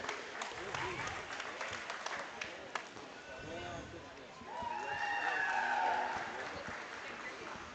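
Spectators clap at the FFA market beef and feeder calf show at the Nebraska State Fair, a scattered round of applause in an arena, mixed with a voice over the loudspeaker and swelling briefly toward the end.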